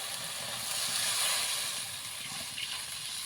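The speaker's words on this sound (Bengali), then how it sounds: "এখন দিয়ে দেব জল।" Water poured into hot fried masala gravy in a pan gives a steady, loud steamy hiss that swells slightly and then settles, close and continuous with no talking.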